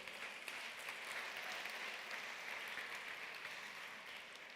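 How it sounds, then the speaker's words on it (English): Steady audience applause at a Women in Tech Africa summit, a dense, even wash of many hands clapping that holds for several seconds without a break. "I think that needs a round of applause."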